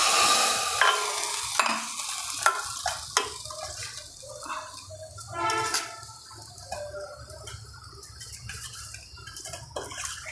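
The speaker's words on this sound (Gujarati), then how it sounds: "આપણે આમાં વઘાર કરી લઈશું" Mustard seeds and spices for a vaghar tempering for farali handvo crackle and sizzle in a hot pan, with a steady frying hiss broken by scattered pops and a few clinks close by.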